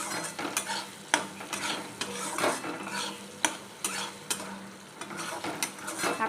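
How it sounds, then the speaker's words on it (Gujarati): Tomatoes and spices, chili powder and coriander-cumin powder, are stirred in a sizzling frying pan for a Gujarati cluster bean dish. Repeated sharp scraping strokes of the spoon sound over a low, constant fry. "સરસ રીતે આપણે હલાવી લઈશું."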